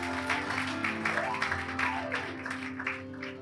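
A congregation at a live Bhojpuri church service claps for the teenager church, with a burst of scattered clapping over sustained music tones that fades toward the end.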